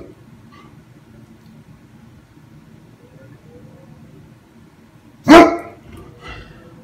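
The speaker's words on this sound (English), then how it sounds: "Stop barking." A single loud dog bark breaks out close by after several seconds of quiet room tone, followed by a faint trailing sound.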